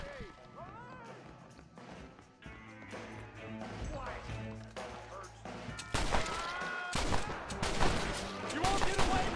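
Gunfire in a Red Dead Redemption shootout: rapid bursts of shots and sharp cracks that grow denser and louder toward the end, mixed with game voices and background tones.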